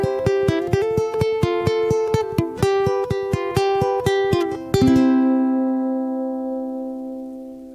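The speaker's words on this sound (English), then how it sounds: "this one is called a pre-mastering, and what it's got is a broadcast quality multi-compression and a little bit of reverb" Music with a pre-mastering effect of broadcast-quality multiband compression and light reverb: steady plucked notes pulse evenly, then a final chord sustains and fades into a reverb tail.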